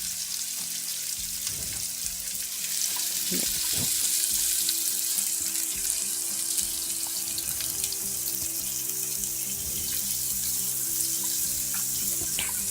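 Onions fry in a pan with a continuous close sizzle and crackle, plus scattered clinks and stirring sounds, and no speech.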